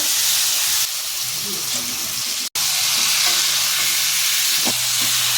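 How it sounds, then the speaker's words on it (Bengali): Spice paste being sautéed in a pan for a chicken curry gives a loud, steady sizzle and hiss. Stirring clicks and scrapes sit over it, with a brief break midway. "এখানে মশলা কষা হয়ে গেছে, এবারে মাংস দেব"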